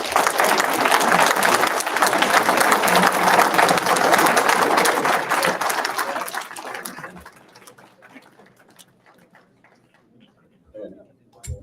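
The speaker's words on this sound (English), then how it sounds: "Can everybody give the candidates a round of applause?" A crowd at a candidates' event gives a round of applause, loud dense clapping that holds for about six seconds, then thins and fades to scattered claps and near silence.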